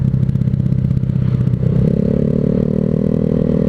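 A Honda Vario scooter engine runs loud and steady nearby, its aftermarket exhaust rumbling and rising slightly in pitch as it revs, with no voices.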